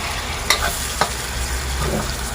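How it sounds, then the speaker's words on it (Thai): Snails stir-fried with pickled bamboo shoots in a pan give a steady low sizzle, broken by two sharp scrapes of a utensil early on and a softer stir near the end, with no talking. "แล้วก็ ใส่หน่อไม้ดอง เนี่ยจะผัดหอย"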